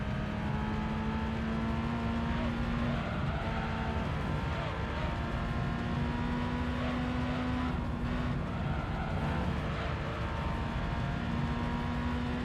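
Race car in Gran Turismo 3 running a slightly bored-out LT1 V8 from a C4 Corvette, holding a steady sustained drone with a constant engine whine throughout, close and loud without letup.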